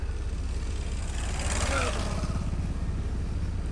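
A modified 4x4 tractor's engine runs with a steady, loud low rumble and a regular throb, and a brief voice rises over it partway through.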